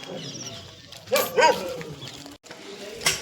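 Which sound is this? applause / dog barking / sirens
dog barking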